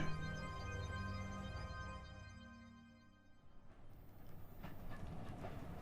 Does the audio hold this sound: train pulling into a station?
yes